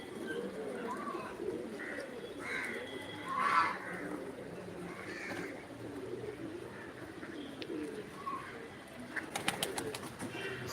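Pigeons coo softly at a moderate distance over a steady outdoor background hum, with a few brief higher chirps mixed in.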